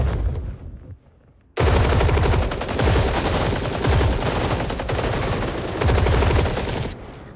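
Loud rapid gunfire erupts after a brief lull, sustained bursts of automatic shots rattling on for several seconds before cutting off.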